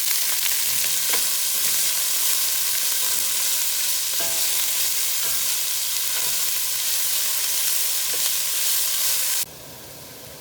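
Chicken gumbo base for Mardi Gras, with garlic in it, cooking in a pot: a steady, close sizzle and bubbling hiss with light stirring clicks that stops abruptly near the end.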